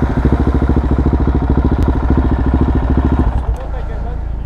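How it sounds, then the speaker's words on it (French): A motorcycle engine runs close by with a steady, rapid pulsing throb for about three seconds, then drops to a quieter, smoother idle. "moi j'aime bien cette moto"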